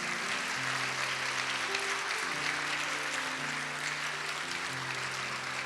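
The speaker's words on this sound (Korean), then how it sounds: "인사드릴 때 큰 박수로 두 사람을 축복해 주시기 바랍니다" Steady applause from a wedding crowd blessing the couple continues throughout, with music playing underneath at a moderate, even level.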